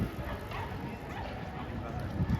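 Dogs bark in short bursts beside the water in Paris, mixed into a busy outdoor scene with people talking nearby.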